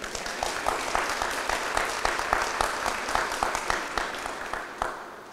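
An audience at the 2017 Access and Inclusion Awards Ceremony of the Mayor's Council on Disability applauds steadily. Many overlapping claps make a dense, sustained roar that holds at an even level and thins slightly at the end.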